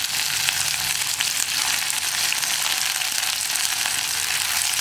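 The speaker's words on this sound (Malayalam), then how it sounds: "ഇനി നമുക്ക് നമ്മൾ കട്ട് ചെയ്ത് വെച്ചിരിക്കുന്ന സവോളയും കറിവേപ്പിലയും ഈ എണ്ണയിലേക്ക് ചേർക്കാം." Sliced onions and curry leaves frying in hot oil, a steady close crackling sizzle that holds constant throughout with no talking.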